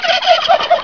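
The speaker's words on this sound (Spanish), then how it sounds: "Ahí hay pavos." Turkeys gobbling close by, a rapid warbling burst of repeated gobbles, loud and uninterrupted.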